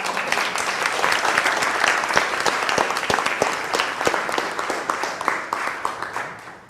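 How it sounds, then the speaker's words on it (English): Audience applause during a yoga session, a dense steady clapping from a room full of people that runs loud for several seconds with a few sharp individual claps standing out, then tapers off at the end. "Let's give a good round of applause."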